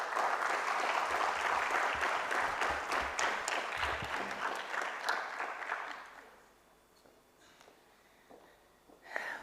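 An audience claps warmly after a keynote lecture on media and revolution in Idi Amin's Uganda, dense and full for about six seconds, then thinning to scattered claps and fading.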